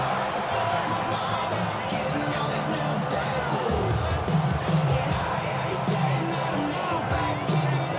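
Stadium crowd noise from the video game Madden NFL 26, a steady dense roar with broadband cheering swelling slightly around the middle and end, sustained throughout under faint commentary-like voices.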